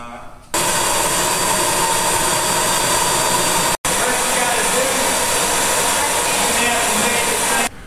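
A vacuum runs steadily and loudly, sucking up bees during a large hive removal, with one brief cutout midway and no other sounds standing out.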